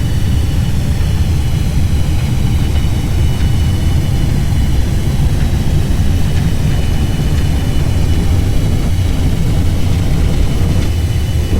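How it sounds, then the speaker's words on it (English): Simulated Boeing 737 Classic engines in a Lufthansa flight in X-Plane 11 roaring steadily at takeoff power, a loud continuous low rumble with a high whine layered above, no voices. "Takeoff power set."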